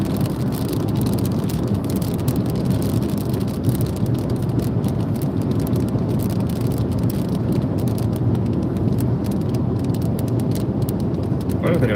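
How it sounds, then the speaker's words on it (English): Steady rain and road roar surround a car traveling the I-4 highway between Orlando and Lakeland, a dense, constant wash of water spray and tire noise from inside the vehicle. "Yep, it's raining."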